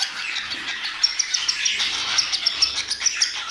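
A small bird chirps and squawks insistently in quick, uneven bursts, a young budgie begging for food up close.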